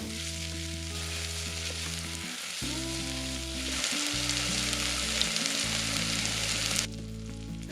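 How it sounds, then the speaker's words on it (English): Onions, ginger and garlic fry in a pot for an Indian chicken curry, giving a steady loud sizzle beneath a sustained low tonal hum that cuts out briefly twice, with no voices. "Now add the ginger and garlic and let this fry until the onions start caramelizing, which will take around 10 minutes"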